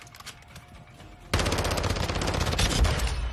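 Automatic gunfire in a video game's shooting range, with quieter scattered shots giving way to a sudden sustained loud burst of rapid fire that continues to the end.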